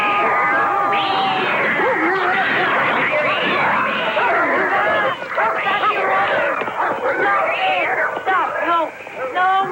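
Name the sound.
cats and dogs together in a room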